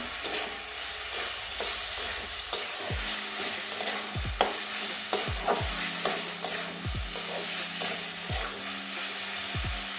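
Soya chunks sauté with spices in a pan for a soya, potato and pointed gourd curry, with a steady sizzle under repeated rhythmic spatula strokes scraping the pan, close and alone.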